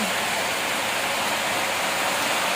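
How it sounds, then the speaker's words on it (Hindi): Heavy rain pours down continuously, a dense, loud, even hiss with no pauses and no voices. "आधे घंटे से ज़्यादा हुई बारिश।"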